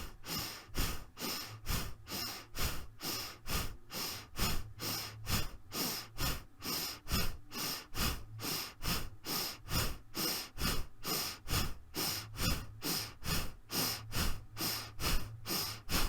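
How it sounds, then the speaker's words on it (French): Rhythmic breathing exercise, with quick, forceful breaths through the nose repeating in a steady fast pattern of about two per second for the whole stretch, close and clear with no talk. "Je continue le souffle, je trouve mon rythme de respiration."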